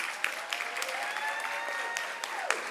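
An audience at an 8th grade promotion ceremony applauds the CEO, a sustained spread of clapping with scattered sharper hand claps and a few cheering voices rising through it.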